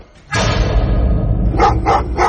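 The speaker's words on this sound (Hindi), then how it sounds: "और तब उसे एहसास हुआ कि वो कुत्ता रॉबर्ट को नहीं, बेन की कब्र को लगातार देखता हुआ भौंक रहा था।" A dog barks three times in quick succession near a graveyard, loud and close, after a heavy thump and a low rumbling backdrop.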